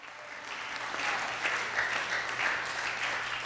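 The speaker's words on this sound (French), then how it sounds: "On applaudit Jésus." Congregation applauding during a church worship service, a sustained crowd clapping that swells and holds steady at moderate loudness throughout, with no voices over it.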